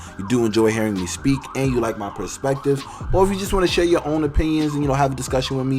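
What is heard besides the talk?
emergency vehicle sirens passing outside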